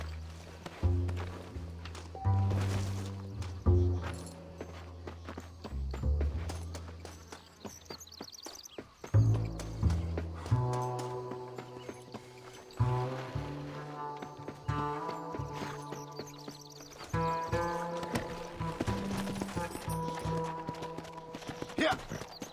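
Horse hooves clip-clopping in the Western video game Red Dead Redemption, near and fairly clear, walking then breaking into quicker runs, with bursts of louder hoofbeats, an occasional whinny and some speech and ambient sound mixed in.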